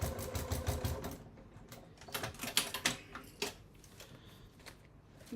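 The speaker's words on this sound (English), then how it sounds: "I'm going to reverse my stitch" A sewing machine stitches in reverse while making a fabric bag gusset, a quiet rapid clatter of needle strokes in short uneven runs with small pauses between them.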